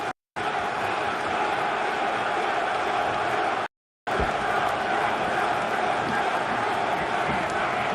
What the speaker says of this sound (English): The crowd exploding in Lowell.